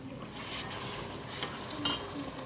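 Ginger-garlic paste sizzles in a hot pan for a fish curry while being stirred, giving a soft, steady frying hiss with a couple of faint scrapes of the spoon, quiet and close, with no talk.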